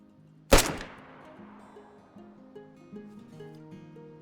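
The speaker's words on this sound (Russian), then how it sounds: "Но выстрел все равно мы послушать можем." A single sharp gunshot from a weapon in the video game DayZ, loud and close, followed by a lingering decaying tail while quiet game background music plays underneath.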